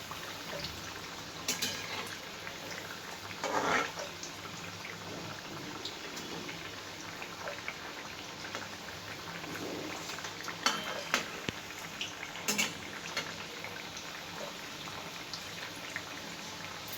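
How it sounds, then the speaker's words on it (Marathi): Crunchy palak vadi, a spinach gram-flour snack, frying in a pan on a gas stove, with a steady close sizzle and occasional crackles and clinks throughout, no talking. "वडी भाजली आहे चांगली"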